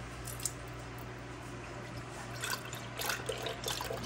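Organic soy milk pours into quart jars with a soft, low liquid trickle and a few brief splashy surges toward the end, faint and close over a steady background hum.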